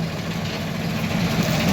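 A tractor engine idles steadily at close range, a loud continuous low rumble with no pauses, out on a storm-hit street blocked by fallen trees.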